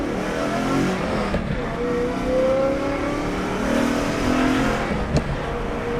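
A BMW S65 V8 fitted with a Valvetronic Designs valved sport exhaust runs with its valves closed, giving a steady, muted engine drone with gentle swells in pitch as the revs rise and fall, heard alone without talk.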